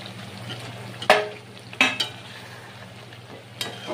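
Fried katla fish pieces go into a pan of spices and green chillies for kalia, with soft sizzling and a few sharp clinks of a spatula against the pan as they are stirred.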